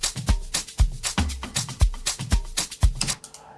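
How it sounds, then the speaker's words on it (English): An FL Studio Afro house beat loops with punchy kicks and bright layered clap samples landing in a steady, driving groove, loud and close, ending in a short decaying tail; no voices. "I'll just add some claps here."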